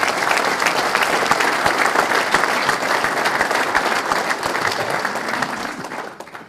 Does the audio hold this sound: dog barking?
no